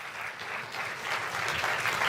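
A congregation claps at a Spanish-language sermon, a soft, continuous patter of many hands that swells slightly toward the end, with no speech over it.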